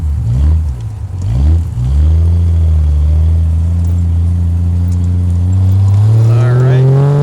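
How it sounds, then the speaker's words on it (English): A 1968 Triumph TR250 sports car idles close by with a loud, steady exhaust note that rumbles throughout and swells in a rev toward the end, with no talk over it. "We'll leave it off so you can hear the exhaust note because this one sounds fantastic."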